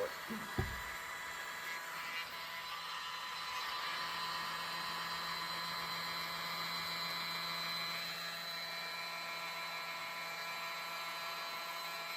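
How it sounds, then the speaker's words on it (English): A small electric mini blower runs with a steady high whine over an acrylic paint pour, starting after a few brief clicks and droning continuously at moderate volume. "Use my mini blower."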